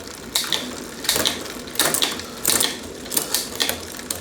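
Rear derailleur on a damaged Trek bicycle shifting gears, about six sharp mechanical clicks and brief ratcheting bursts spaced roughly evenly apart, close and fairly loud, with no talking.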